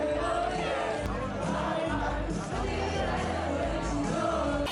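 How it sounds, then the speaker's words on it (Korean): Crowd cheering and shouting at the Saemangeum Jamboree talent show, where national teams perform traditional dances and songs; a dense, steady roar of many voices with loud whoops, close and continuous throughout. "더 크게 열광하고 환호하는데요"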